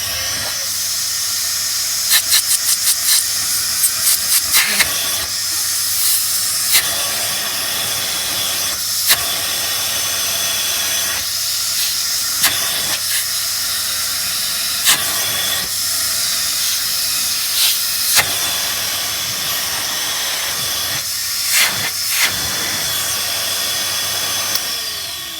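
A bagless vacuum cleaner runs steadily with a loud, close, broadband suction hiss, and its tone shifts at moments as airflow over the intake changes, with brief clicks and knocks scattered through the drone.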